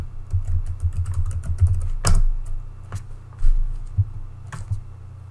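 Computer keyboard typing a username, a quick run of close, crisp keystrokes with a few heavier key presses.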